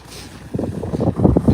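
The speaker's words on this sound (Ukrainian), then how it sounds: "О, все, трактор поїхав." A tractor pulls away during a farmyard manure cleanup, its low engine rumble rising after a quiet start and holding as a rough, fairly near drone over outdoor wind.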